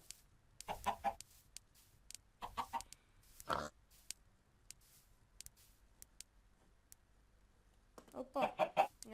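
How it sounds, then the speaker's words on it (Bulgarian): Chickens in Minecraft cluck in short bursts, with a few scattered close clucks early on and a denser cluster near the end, set against quiet game ambience. "Айде пилета. Ще ми дават яйца."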